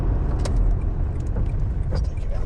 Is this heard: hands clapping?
no